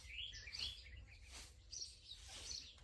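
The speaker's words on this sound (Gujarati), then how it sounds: "આમાં બદામમાં લાડ છે એટલે ચકલા જ બોલે. અવાજ આવે" Sparrows chirping on a cloudy day, a busy stream of quick, high twittering calls from several birds at moderate distance, fairly faint, with no talking.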